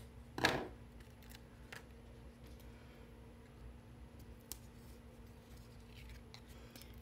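A single short snip of scissors cutting dimensional adhesive craft sheets near the start, then quiet background with faint small ticks.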